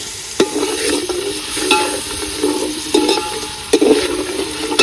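Chopped onion frying in oil in a pan for a village-style curry: a continuous sizzle broken by repeated scraping stirs of a spoon against the pan, close and fairly loud, with no voices.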